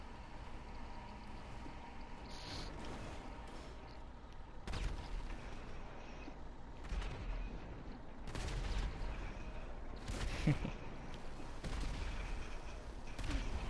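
Gunfire in GTA 5 crackles throughout as repeated shots and bursts, some close and sharp, others duller, under a steady game background.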